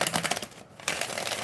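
Playing cards shuffled by hand during a tarot reading, a brisk, dense riffle of crisp papery flutters and clicks lasting about a second and a half, heard up close with a short pause partway through.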